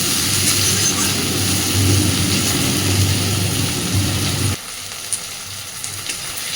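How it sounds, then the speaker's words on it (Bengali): Onion, tomato and green chilli fry in a pan with a loud, dense hiss that drops suddenly to a quieter sizzle near the end, no talking. "পেঁয়াজ টমেটো কাঁচা লঙ্কাটাকে একটু স্বচ্ছ হওয়া পর্যন্ত ভেজে নেব"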